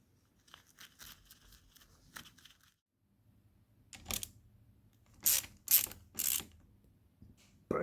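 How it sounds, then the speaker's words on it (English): Ratcheting clicks from a tool tightening a nut onto an MG Biketec adjustable lever mount on a Triumph Speed 400 motorcycle, with light handling noise first and then several louder, close bursts of rapid clicking. "All right, I'll get the nut on and show you."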